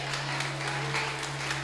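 Faint congregation applause during a church sermon, a soft wash of clapping beneath a steady electrical hum.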